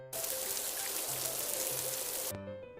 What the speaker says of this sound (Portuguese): ou o barulho de chuva